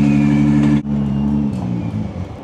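A turbocharged hybrid drift car at a French drift championship event at Val de Vienne, its engine droning loud and steady, dipping sharply for a moment, then revving back up with a rougher, fluctuating tone.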